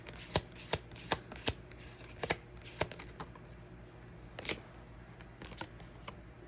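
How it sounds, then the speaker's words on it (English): Oracle cards being shuffled by hand at close range, a quiet run of soft riffling slaps and flicks repeating irregularly over a faint room hiss, with no talk. "We're going to pull a card or two from the Truth Oracle to start."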